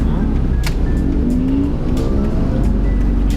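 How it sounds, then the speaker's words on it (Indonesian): Volvo 960 swinging through a tight U-turn, its engine droning loud and steady with a faint tire squeal, voices briefly heard inside. "Nah ini kita mau U-turn putaran bener-bener patah"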